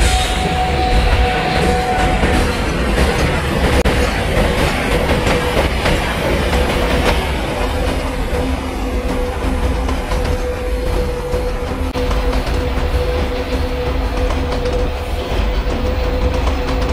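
A 51809 Kanpur–Tundla Fast Passenger train runs in the MSTS train simulator game, a loud, continuous rumble with rhythmic wheel clatter on rails and faint squeals throughout.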